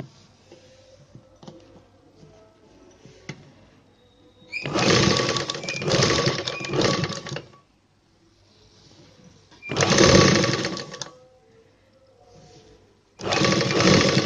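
A sewing machine stitches a blouse in three separate runs of steady whirring, each a few seconds long, with quiet handling noises and pauses in between.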